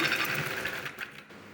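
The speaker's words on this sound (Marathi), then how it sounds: "तर अशा पद्धतीने आपल्याला पूर्ण शिलाई मारून घ्यायची आहे" A sewing machine stitches a straight seam on lining fabric, giving a short quick mechanical whirr that stops abruptly after about a second.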